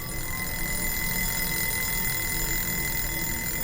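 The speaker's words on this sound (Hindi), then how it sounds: "इतने में अलार्म रिंग करता है" An alarm clock rings steadily and loudly for the whole stretch, a dense continuous bell-like jangle with no pause and no voices.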